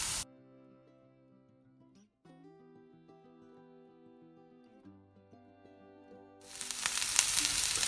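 Onions, green chillies and ginger frying in a pan for aloo paratha filling. A soft background melody plays first, then a loud, close sizzle bursts in and hisses steadily to the end.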